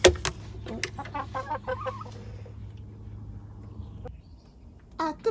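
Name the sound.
rescue hens clucking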